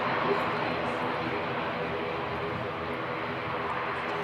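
ATR turboprop airliner taking off at Christchurch Airport, a steady broad engine roar heard from a distance that holds evenly throughout without fading.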